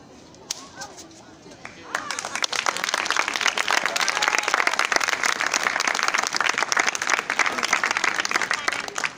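Audience applause at a magic show at the Feria de San Isidro: a faint murmur gives way to a sudden swell of sharp, dense clapping that continues loudly to the end.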